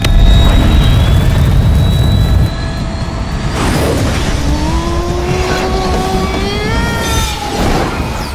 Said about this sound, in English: this thing has 5 miniature jet engines